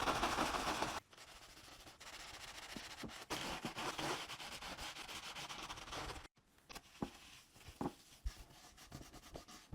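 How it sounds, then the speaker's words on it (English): Brisk scrubbing of a surface with Ajax cleanser, a rough rhythmic rubbing that runs in bursts with short pauses and scattered knocks, fairly close. "Scrub, scrub, scrub."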